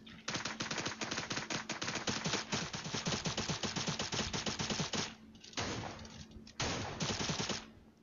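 Rapid automatic gunfire in a ranked multiplayer shooter game, loud and near, pouring out in dense continuous bursts with two short breaks near the end and no talk.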